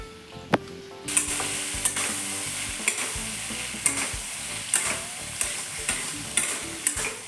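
Sauce hits chili chicken frying in a pan, setting off a steady bright sizzle with regular clinks and scrapes of a spatula stirring, close and without talk.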